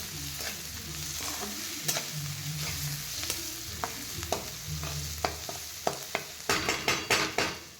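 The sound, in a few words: sautéing onion in a pan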